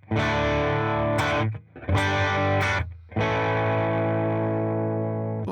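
Electric guitar strumming bluesy rhythm chords through an overdrive pedal, three sustained, gritty chord hits with short breaks between, loud and close with no talk.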